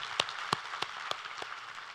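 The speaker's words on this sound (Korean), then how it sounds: "우리 하나님께 감사와 영광의 박수를 드리겠습니다" A few hands in a church congregation clap sparsely after a sermon, producing about six distinct, separated claps at an uneven rhythm, faint and fairly distant in a quiet room.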